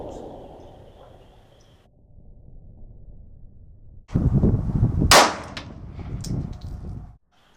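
Pistol shots from a .45 1911 and a 9mm 92 on a shooting range: after a quieter stretch, two loud, sharp reports land close together near the middle, with metallic clanging and ringing around them.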